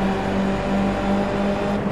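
A race car at Road America roars by close at steady high revs, a loud continuous engine note holding for a couple of seconds.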